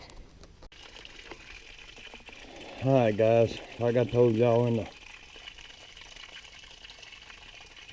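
A creek flows with a continuous, steady rushing murmur outdoors, heard under someone talking for a few seconds before it carries on alone.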